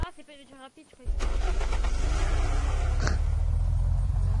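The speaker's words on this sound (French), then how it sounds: "c'est pas une voiture rapide, je crois." Car engine in the game Unturned starting up after someone speaks, then settling into a loud, steady low idle hum with a brief click partway through.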